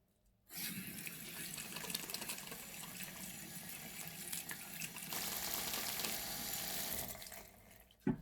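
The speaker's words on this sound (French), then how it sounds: "Là, je vais rincer." Tap water runs steadily into a sink for rinsing during an evening cleaning routine, a close, continuous splashing rush that starts abruptly, swells slightly midway and cuts off near the end with a small clunk.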